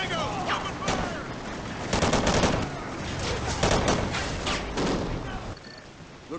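Dense gunfire from a Call of Duty firefight, with bursts of automatic weapons and heavy booming shots rolling on continuously, loud and close, broken by brief lulls before dying away near the end.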